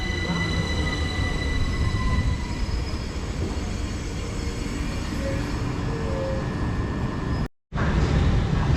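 A Southern Class 377 electric train rolls into the station with a steady loud rumble and wheel hum, faint squealing running through it, continuous and close, broken by a brief cut near the end.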